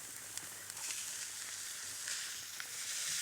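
Beef mince frying in a pan with dried oregano and other spices for a Chilean corn pie, making a continuous bright sizzle with faint crackles and a few small utensil taps, close and moderately quiet.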